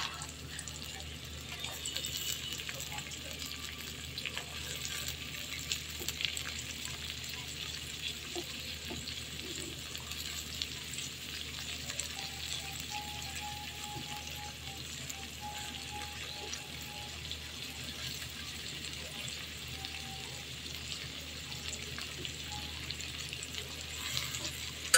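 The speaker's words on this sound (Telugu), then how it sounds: "నేను టమాటా వేసి గ్రేవీ లాగా చేస్తున్నా." Ivy gourd and tomato fry in a kadai with a steady, soft sizzle that runs unbroken throughout. A little faint background clatter sits under it.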